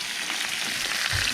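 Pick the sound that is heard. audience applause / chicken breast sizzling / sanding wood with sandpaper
chicken breast sizzling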